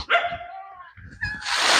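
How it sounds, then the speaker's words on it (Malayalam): A dog gives a couple of close, sharp barks and a whining yip, followed by a burst of rustling noise. "പിന്നെ മോളി എന്ന് പറഞ്ഞത് നായുണ്ട്"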